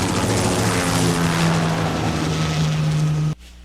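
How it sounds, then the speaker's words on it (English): Steady rotor-driven roar of a helicopter, loud and continuous with a low droning hum, cutting off abruptly near the end. "The helicopter flies itself over"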